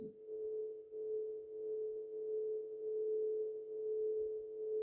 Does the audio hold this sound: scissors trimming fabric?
no